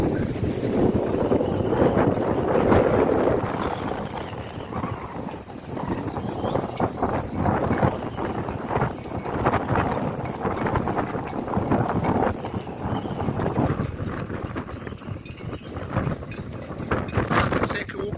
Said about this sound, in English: On this windy autumn day in Cape Town.